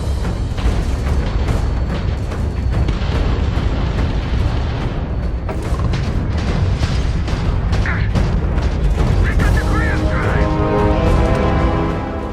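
An enemy spaceship blowing apart in the video game Starfield: loud, sustained booming rumble with dense crackling bursts throughout, layered with thin whistling tones toward the end, with no speech.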